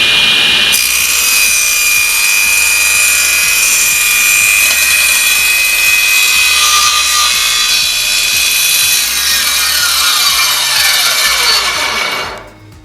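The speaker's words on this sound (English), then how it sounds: "but we can now do a straight cut" A SIP CTS10D 10-inch floor-standing circular saw, 230 volt, rips a straight cut through wood in one steady, loud, continuous high whine for about twelve seconds before the blade spins down at the end.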